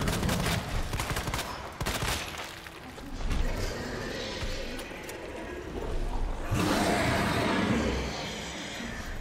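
Repeated gunfire in the video game Resident Evil 2, a rapid series of sharp bursts with mechanical clatter spread across the stretch, loud and close.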